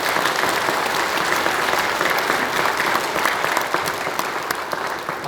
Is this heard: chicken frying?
no